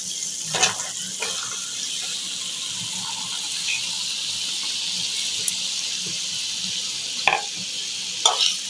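Malabar spinach stalks stir-fried with cooked-down spices in a home kitchen, giving a steady soft sizzle with a few louder scraping stirs of the spoon near the start and end.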